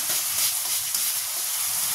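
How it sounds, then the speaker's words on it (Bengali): Spices sizzling in hot oil in a pan for a vegetarian coconut potato curry, a steady close hiss of frying with no speech. "এই মশলাগুলোকেও ভালো করে কষিয়ে নিতে হবে।"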